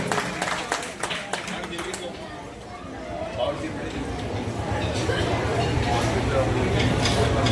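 Crowd clapping at a Navratri garba festival pandal to encourage a young girl dressed as Sita, bright claps early on that blend into a rising roar of chatter and crowd noise, with voices throughout.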